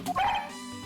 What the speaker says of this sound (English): A woof.